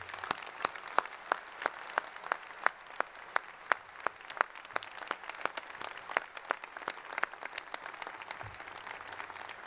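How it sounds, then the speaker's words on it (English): Sparse, rhythmic clapping from an audience at a university commencement ceremony, distinct individual claps repeating steadily and fairly quietly throughout. "I'd like you all to give him a round of applause."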